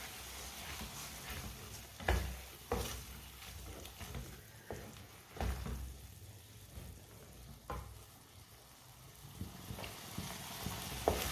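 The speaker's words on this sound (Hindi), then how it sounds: "अच्छी तरह मिक्स कर लेंगे अंडों को" Eggs and peas sizzle in a frying pan while a utensil stirs and scrapes through them, a steady close frying hiss broken by intermittent clanks against the pan.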